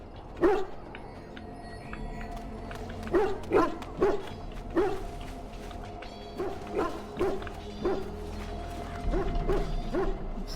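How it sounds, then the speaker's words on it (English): A puppy in Dragon Age Origins yips and barks repeatedly at close range, in irregular bursts and short clusters over a low background hum. "Cute puppy."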